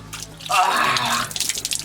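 Water splashes in a short burst as a face is washed with cold water, close and fairly loud, with a few drips trailing off and no talk.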